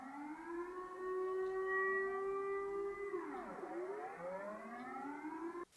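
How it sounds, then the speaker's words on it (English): A distant civil defense siren during its monthly noon test wails steadily, then its pitch falls and rises again in a long sweeping cycle, with no talking. "They are always testing the air horn sirens or the alarm sirens basically."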